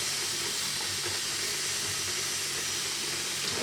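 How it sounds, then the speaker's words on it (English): Steam hisses in a steady, loud, broadband rush from the neck joint of a bowlback mandolin during a neck reset, continuing without a break and with nothing else heard. "there is steam coming out of there"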